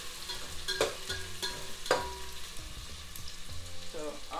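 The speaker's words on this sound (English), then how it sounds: "roughly chopped onions, which is going straight into the oil." Roughly chopped onions frying in oil for a lamb dal curry, a moderate sizzle with a few sharp clanks of a spoon stirring the pan and no voices.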